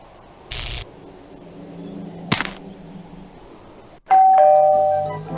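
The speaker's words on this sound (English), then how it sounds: "Ah, my bell rings." A bell rings in the fantasy adventure game Kingdom O' Magic: two short, sharp dings, then a loud, sustained bell tone that rings out and slowly decays, heard alone.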